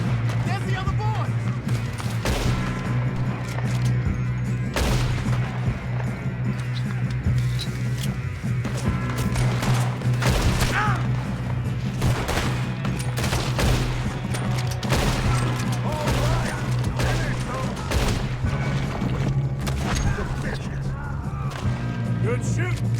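Rapid gunfire crackles through a Red Dead Redemption 2 shootout, with loud shots coming in bursts over a steady droning music bed.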